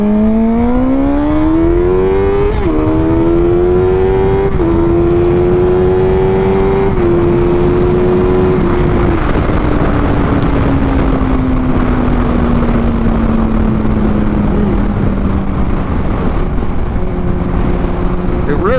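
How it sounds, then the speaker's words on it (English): A motorcycle engine revs hard close by, its pitch climbing in stepped surges through several gears, then winding down steadily as the bike coasts, with wind rush throughout. "open this bike up a little bit real quick"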